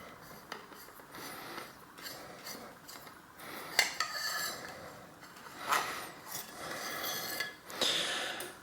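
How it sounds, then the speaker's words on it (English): Socket wrench turning and loosening the top cap of an RST Gila Pro bicycle fork with a 24mm socket, giving intermittent metallic clicks, scrapes and rasps at close range with brief louder clanks, no talk. "It looks like it's going to fit a 24mm socket. So I'm going to see if I can unscrew this."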